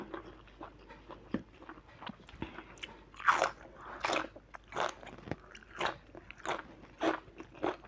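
Someone eats a Thai grilled mackerel chili dip dish with crunchy bites, making close, repeated crisp chewing and crunching bursts in an irregular rhythm in a quiet room, with no talk.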